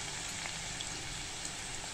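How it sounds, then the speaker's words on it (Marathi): Okra frying in hot oil in a pan, a steady soft sizzle and crackle that stays even and fairly faint throughout, with no voices. "आपण जेव्हा तेलामध्ये भेंडी तळणार तेव्हा तिचा बराचसा चिकटपणा कमी होतो"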